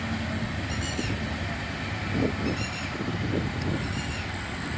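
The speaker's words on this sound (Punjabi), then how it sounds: "ਇਹ ਉਹ ਟ੍ਰੇਨ ਲੰਘਦੀ ਹੈ ਸਾਡੇ ਲਾਗੋਂ ਦੀ" An electric train rolls past close by near Amritsar, a continuous rumbling roar with rhythmic wheel clacks and faint metallic squeals.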